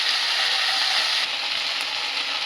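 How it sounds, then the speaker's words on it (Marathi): Marinated paneer sautéing in oil in a pan on the stove. A steady, dense hiss of frying sizzle runs unbroken at an even loudness, with no talk. "आता आपल्याला पनीर सॉटे करायचंय. एका पॅनमध्ये मी थोडंसं तेल टाकलेलं आहे."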